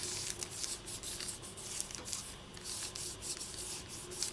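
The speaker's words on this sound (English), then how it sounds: "just gently burnish it a little bit to get rid of any fingerprints that you might have put on it" Quiet, close rubbing as a striped translucent polymer clay cane is gently burnished by hand, a soft continuous scratchy friction with faint irregular strokes and no talking.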